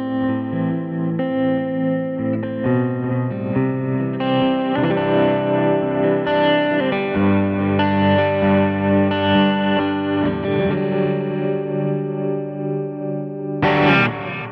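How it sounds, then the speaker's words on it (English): Electric guitar run through a pedalboard with ambient tremolo from a Mobius, long reverb and long delay, sustained shimmering chords that swell and wash together with pulsing volume, played alone and loud. "one of my favorite sounds that I love to use just is the ambient trem"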